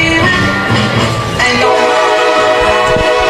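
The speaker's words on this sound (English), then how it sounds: "Well, you can hear the train." A train horn blares in downtown Tampa beside a college baseball game, a loud, sustained, steady blast that holds for several seconds and stands alone without voices.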